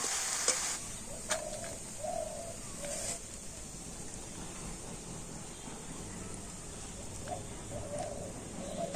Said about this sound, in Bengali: এইভাবে নাড়াচাড়া করে নিলেই কিন্তু আজকের আমার পিঠের জন্য পিঠের পুরটা একেবারে রেডি হয়ে যাবে